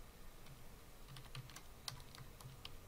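Steady, quiet clicking of keys on a computer keyboard, a brisk run of keystrokes close by with no talking.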